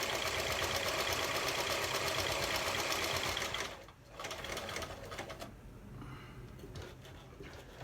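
A sewing machine stitches a nylon mask in a fast, steady whirring run for nearly four seconds, then stops abruptly, leaving only faint, quieter mechanical rattles.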